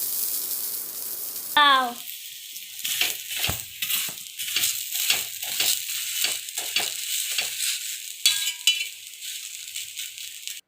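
Moong dosa roasting on a hot pan gives a steady sizzle with repeated light scraping or stirring strokes, close and moderately loud, with a brief exclaimed word near the start.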